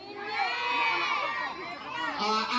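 A large crowd at a giveaway event shouts in unison in response to a host, a loud, sustained roar of voices with rising and falling swells.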